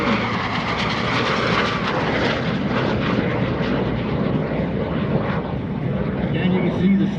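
A straight-wing T-33 jet with wingtip fuel tanks flies past at the 2021 Arctic Lightning Airshow, its engine roaring loudly and steadily throughout while an announcer talks over it.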